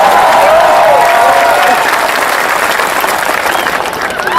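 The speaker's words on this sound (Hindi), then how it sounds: "एक बार हाथ खड़े करके तालियां बजा के बताओ कि मैं चंडीगढ़ में आया" Crowd at a Hindi comedy poetry show in Chandigarh gives loud, sustained applause with some cheering, filling the space while a voice rises briefly underneath.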